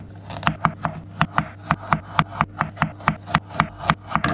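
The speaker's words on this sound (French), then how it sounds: "Allez, on se coupe les carottes" Knife chopping carrots on a wooden board for a wild duck dish, a steady run of about twenty sharp, close chops at a brisk even rhythm, with no talk.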